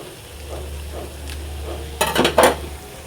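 Masoor dal bora, small lentil fritters, frying in hot oil, with a steady low sizzle, then a burst of clattering scraping as they are stirred and lifted near the end; no talking.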